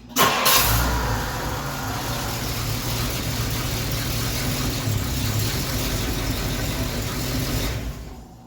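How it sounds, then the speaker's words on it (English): A car engine cranks and catches during a wheel alignment procedure in a shop, then settles into a steady idle with a low rumble before cutting off near the end. "we're going to start the car"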